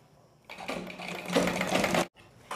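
A sewing machine runs steadily while stitching fabric for a small zip pouch, a loud, fast whirring burst of about one and a half seconds that stops abruptly, with a faint hum before and after.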